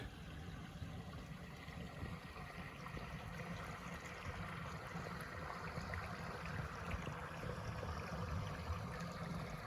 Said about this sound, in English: The creeks are flowing majestically.